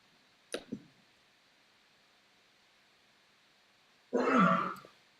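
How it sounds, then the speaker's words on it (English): A headmaster coughs in an adjoining room: a sharp short cough early on, then a longer harsh throat-clearing cough near the end, muffled and somewhat distant over quiet hiss. "I'm having the headmaster of the school coughing here in next room"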